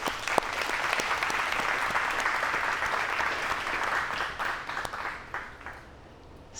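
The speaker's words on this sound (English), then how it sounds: "Let's give her a round of applause in advance." An audience applauds at a motivational talk, a dense, steady burst of many hands clapping that fades out toward the end.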